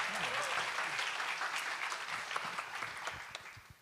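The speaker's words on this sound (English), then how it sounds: "So a round of applause for our final presenter, Ivan." Applause for a presenter at a hackathon demo day, a brief round of clapping that gradually fades, with some voices mixed in near the end.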